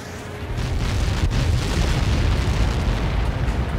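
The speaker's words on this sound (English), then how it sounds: "How many got caught in that explosion?" A massive explosion in the Ace Combat 7 flight combat game, a deep, sustained roaring blast that swells within the first half second and then rumbles on loudly and steadily to the end, with no voices.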